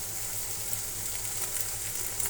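Taki fish frying in hot oil in a pan after being boiled with a little turmeric and water, a steady even sizzle, close and moderately loud, with no voices.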